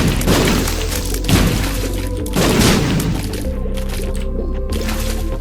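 Bomb explosions in the video game The Binding of Isaac hit one after another, several loud booming bursts with crunchy, wet-sounding debris, set over steady game music.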